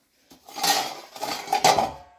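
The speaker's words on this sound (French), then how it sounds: "Il y en a qui ont laissé des couverts là." Metal cutlery clinks and rattles as it is picked up among abandoned utensils in a derelict seaside resort building, a few close bursts of clattering over a brief stretch.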